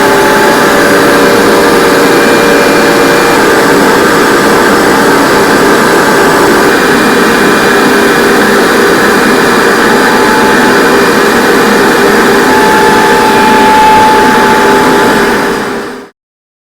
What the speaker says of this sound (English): So it's going to get fly cut,